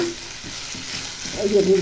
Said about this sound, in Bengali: ভাজা ভাজা করে নিয়েছি পেঁয়াজ রসুন